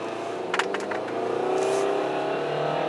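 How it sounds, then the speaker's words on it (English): A Kia Optima Turbo accelerating in sport mode, heard from inside as the engine note climbs steadily in pitch and loudness, with a faint clunk or two early on and no talking. "In sport mode, shifting it yourself, which you can do with paddles or on the shifter, it's actually pretty lively when the turbo kicks in."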